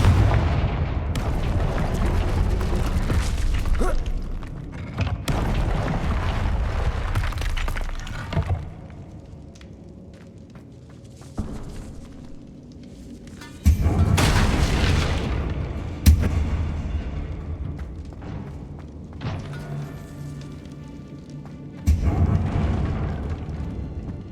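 Confringo fire-spell blasts in Hogwarts Legacy on PS5: a run of loud booming explosions with sharp onsets and rumbling tails, several heavy hits spaced across the stretch with quieter gaps between and no voices.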